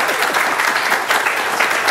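Audience applause fills a conference talk room, a steady dense clatter of many hands clapping throughout, with no voices standing out.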